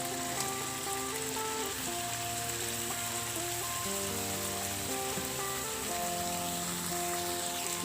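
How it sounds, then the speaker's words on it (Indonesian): Green beans stir-frying in a pan for sayur buncis, a steady close sizzle and crackle running throughout, with kitchen tones layered beneath and no talking. "Baru kita tumis lagi"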